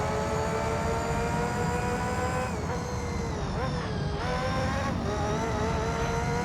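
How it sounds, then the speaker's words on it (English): Open-wheel race car engine in the Gran Turismo 3 video game, a loud high-pitched sustained whine that holds steady, then dips and climbs again through several gear changes, continuous and close. "It's so interesting how different this car sounds."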